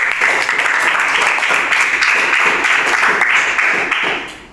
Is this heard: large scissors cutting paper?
no